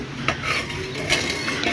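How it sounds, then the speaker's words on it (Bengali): A girl cooking on a village veranda stirs a pot, with a few quick scrapes and knocks of a utensil against the metal over a low, continuous background hum. "আমার মেয়ে রান্না করছে আজকে"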